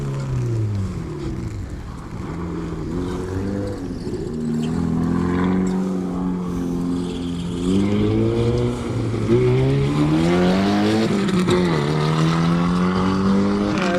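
A race car engine roars continuously during a Melbourne time trial, its pitch rising and falling through gear changes as it passes close by and loud, with the rear of its exhaust damaged and trailing.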